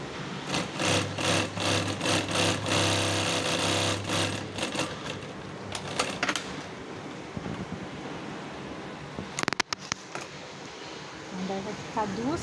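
A sewing machine stitches the second seam on a two-seat cushion cover, running in steady bursts for several seconds before stopping, followed by handling noises and a short whir.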